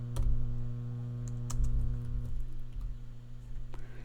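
Computer keyboard keys pressed while coding in Python, a few sparse sharp clicks over a steady low electrical hum, close and fairly quiet.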